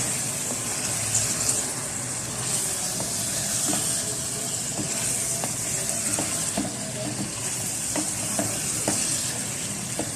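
Capsicum and chicken frying and being stirred in a pan over a medium flame for a chicken jalfrezi, with a steady sizzle throughout and the scrape of a utensil breaking through at intervals, close and continuous, with no voices.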